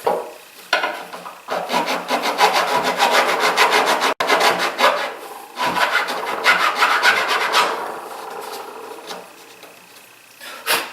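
A hand file rasps a small nub off a part in steady, close back-and-forth strokes. Two long bursts of rough scraping are split by a brief sharp tap.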